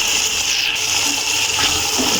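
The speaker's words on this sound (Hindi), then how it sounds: "थोड़ा सा पानी शामिल कर देंगे।" Water is poured into a spice masala of cumin and coriander powder for Pakistani dhaba-style chicken, a continuous close gushing splash with no talk.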